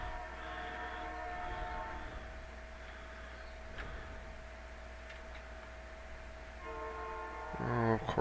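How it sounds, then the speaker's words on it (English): A train passes nearby, a steady low rumble with tonal rail whine holding throughout and swelling louder with squealing near the end, heard alone without talk. "Sorry for train sounds."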